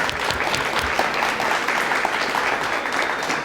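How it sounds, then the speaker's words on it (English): Audience members clap together at a seminar-style event, producing sustained, even applause that holds its level throughout with no voices over it. "Let's give them their round of applause for everything."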